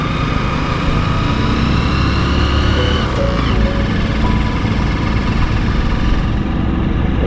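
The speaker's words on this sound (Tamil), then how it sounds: "ஸோ நம்ம வண்டி ஸ்லோவாக தான் ஏறும்." A vehicle engine labours slowly up a steep forest road on the way to Valparai in monsoon season, giving a loud, steady low drone and whine from inside the cabin with no pauses.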